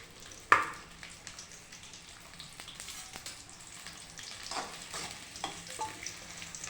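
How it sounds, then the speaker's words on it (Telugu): Onions frying in hot oil for a fish curry, a soft, steady crackling sizzle with a sharp knock near the start and occasional stirring scrapes, fairly faint and close. "ఈ ఉల్లిపాయలు నూనెలో వేపుకోవాలి"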